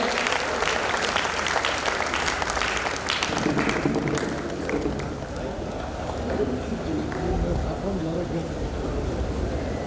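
An audience at an honours ceremony in Udaipur applauding steadily throughout, a dense, sustained wash of clapping that fills the hall at even loudness.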